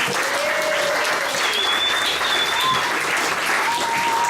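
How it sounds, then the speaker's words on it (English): Wedding guests give a loud, sustained round of applause for the bridesmaids during a best man speech, a dense continuous clapping with a few faint whistles or cheers above it. "Big round of applause for the bridesmaids,"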